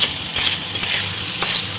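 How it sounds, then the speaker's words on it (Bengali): Khesari dal frying in a pan with dried red chilli and bay leaf, a steady soft sizzle with faint stirring scrapes, close and even throughout. "ডালটা একটু ভালো করে ভেজে নিচ্ছি"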